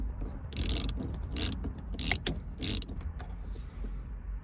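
Ratchet working a bolt loose inside a Nissan 370Z cabin during a short shifter install, heard as several short bursts of clicking spaced about half a second apart, fairly close, with no talking.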